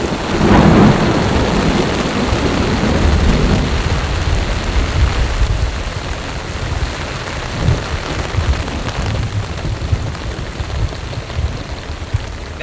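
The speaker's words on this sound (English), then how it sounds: "it now sounds like there's a wicked storm right over here coming this way." Heavy rain pours steadily on a camp during a violent Colorado thunderstorm, with deep, loud rolling thunder rumbling near the start and again midway, no voices.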